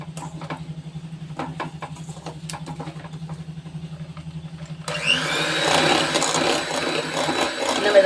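An electric hand beater whirs steadily in a bowl of Christmas plum cake batter, then at about five seconds turns louder and grittier as the beaters bite into the mix, continuing as a close, dense churn.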